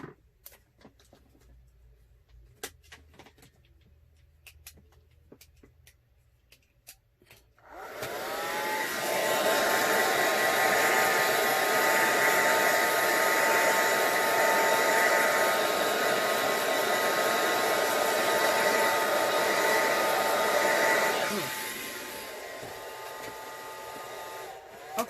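A hair dryer starts up about a third of the way in and blows steadily and loudly to dry a mixed media art journal page, then cuts to a lower hum before stopping. Quiet small handling sounds come before it.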